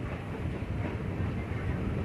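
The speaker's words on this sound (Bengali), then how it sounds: "কুলেম থেকে এখন ট্রেন ছেড়ে দিয়েছে।" The Poorna Express, train 11098, pulls out of Kulem station with an extra engine attached at the rear for the climb into hill country. A dense, steady rumble of rolling carriages fills the clip without pause.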